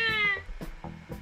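A cat meows in a Japanese video game, with one long, clear harmonic meow at the start followed by a few shorter, softer mews, close and loud over faint game sounds.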